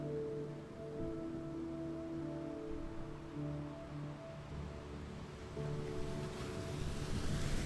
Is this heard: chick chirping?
no